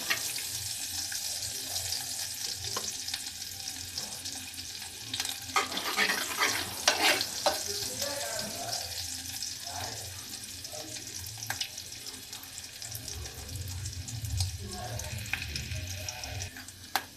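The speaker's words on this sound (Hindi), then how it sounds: "तो अदरक को पहले थोड़ी ब्राउन कर लेती हूँ" Steady oily sizzling of sliced ginger browning in a pan, fairly quiet, with occasional stirring and scraping sounds and no talking.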